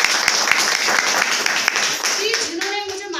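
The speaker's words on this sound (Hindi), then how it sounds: "सर इनके लिए मैं एक बार जोरदार ताली" A seminar audience applauds loudly with dense, steady clapping. Near the end it fades into a voice speaking over the tail of the applause.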